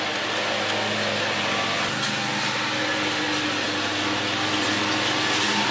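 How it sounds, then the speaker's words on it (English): A lawn mower cuts grass nearby, its steady broadband engine drone running continuously and loud throughout without a break. "Why do they always cut grass here when I'm trying to record?"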